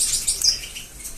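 Male red siskins in a cage give high, thin chirps and tweets mixed with wing flutters while being caught by hand, all close and lively, with no talk.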